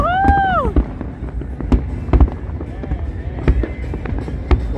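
New Year fireworks over Al Marjan Island, a record-breaking display, with sharp booms and crackling bursts going off repeatedly at varying distances. Whistles rise at the start, and voices and cheering from the crowd mix in.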